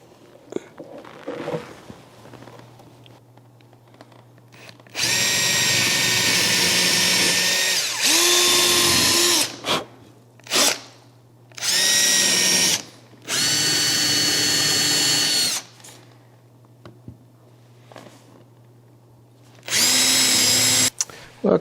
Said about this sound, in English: Okay, so all those holes are drilled.